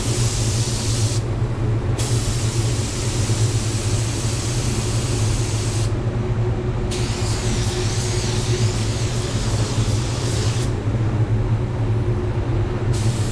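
A Walcom Ego Mini spray gun laying down a coat gives a loud, continuous airy hiss, broken by three short pauses where the trigger is released, with no talking.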